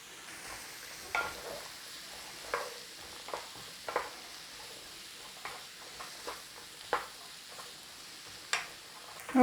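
Carrots sauté in a pan under a quiet, low sizzle, with about a dozen distinct clicks and scrapes from stirring spaced through it; nobody speaks.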